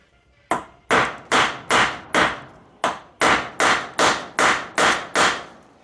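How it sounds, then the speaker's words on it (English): A Mac Tools extractor is hammered down onto a stripped Allen-head bolt with a steady series of about a dozen loud, sharp metal hammer blows and one short pause partway through. "I'm going to drive that thing down in there"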